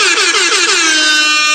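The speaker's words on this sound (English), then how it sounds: "I'm going to hit him with some air horns." A loud air horn sound effect blares in a rapid series of wavering, overlapping blasts that settle into one sustained, piercing tone, with no talk.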